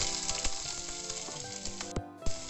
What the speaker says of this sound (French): Je vais y faire revenir les oignons.